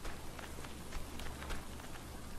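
Heavy rain in a survival video game, a constant dense hiss of drops pattering across surfaces with faint scattered taps, steady and fairly loud with no voices.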